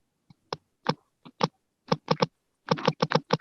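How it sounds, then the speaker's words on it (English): Rapid bursts of keystrokes on a computer keyboard, clustered in short irregular groups with brief pauses, close and fairly loud with no talk. "I think you're typing Morse code"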